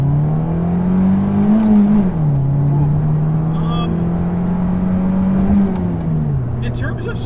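Sports car driven hard on a highway, its engine note rising steadily under acceleration, then dropping at shifts before climbing again, while occupants talk inside the cabin.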